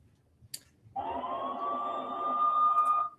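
Ambulance siren from a blood typing video game, a single sustained wailing tone that rises and holds steady for about two seconds after a brief click, loud and close with no talk over it.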